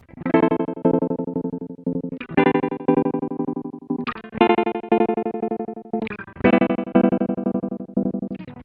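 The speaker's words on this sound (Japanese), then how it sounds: "はい、次は打って変わってすごく細かい音。" A guitar run through a BOSS SL-2 Slicer on a very fine pattern, chopping the sustained chords into rapid, even stutters that restart with each new strum, close and alone.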